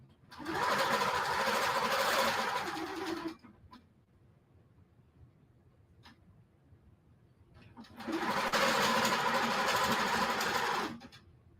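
A straight stitch sewing machine runs through quilt binding in two loud steady bursts of rapid stitching, separated by a quiet pause with a few faint clicks.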